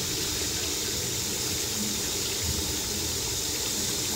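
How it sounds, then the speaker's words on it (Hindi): Water pours into a cooking pot while Chinese pulao is being made, a steady splashing rush at close range that runs for about four seconds with no voices. "मैं इसके अंदर पानी ऐड कर दूंगी।"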